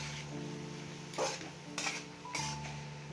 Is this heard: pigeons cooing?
no